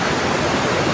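The Curug Sekar Langit waterfall roars in a dense, even rush of falling water, loud and close with no other sounds.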